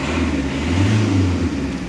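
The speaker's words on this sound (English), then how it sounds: "I just wanted you to hear the engine" A Fiat 500X Cross Plus with the Multijet diesel engine idling, a close, steady low rumble with a slight swell in the middle, heard alone.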